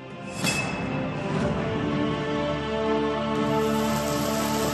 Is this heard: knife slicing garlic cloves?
no